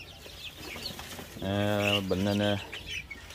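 Young ornamental chickens being raised and vaccinated make a single drawn-out, buzzy call lasting about a second. It sounds over faint background peeping, with a person speaking nearby.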